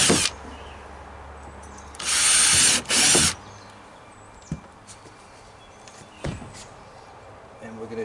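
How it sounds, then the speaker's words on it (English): Two short bursts of a small power drill whirring as a 1/8 inch bit drills pilot holes in a kayak, separated by a brief pause, with clicks and light handling noises in a quiet room. "just using a 1/8 inch drill as a pilot hole"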